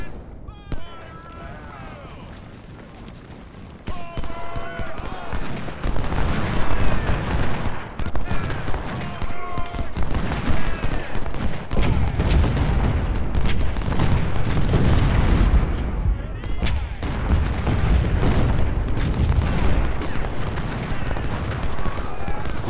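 Cannon and musket fire from the Ultimate General: Civil War video game build into dense, overlapping booms and crackling volleys that grow louder and continuous after a quieter start, with someone talking over the battle.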